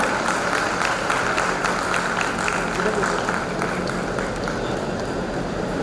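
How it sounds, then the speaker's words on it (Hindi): Applause from an audience at a power distribution company's foundation day function in Bhopal, a steady, fairly loud clatter of many hands with a low background hum underneath. "इनके लिए जोरदार तालियां"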